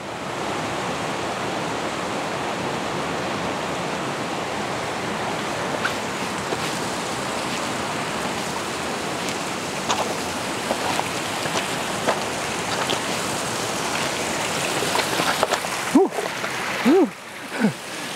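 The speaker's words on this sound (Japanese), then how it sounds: "川が流れてますね" A river in the Osugi Valley, Japan, rushes in a steady, dense wash throughout, with a few brief voiced sounds near the end.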